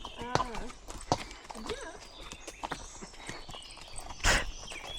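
A club pony's hooves clop at a walk on a tourist trail ride, irregular close knocks mixed with tack rattle and a rider talking over them.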